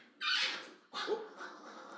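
Puppies play and wrestle, giving two bursts of small yips, growls and scuffling snuffles, close and moderately loud, with no talk over them.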